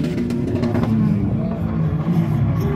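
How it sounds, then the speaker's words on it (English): A turbocharged Mazda Miata drift car revs hard during a Drift Indy competition run, its engine a loud, sustained growl under event commentary. "next up we have the legend Brian Peter in the turbocharged Indy Miata"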